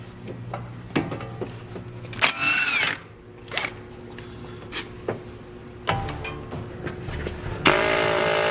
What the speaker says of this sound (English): With the cotter pin now, I'm removing the tie rod nut.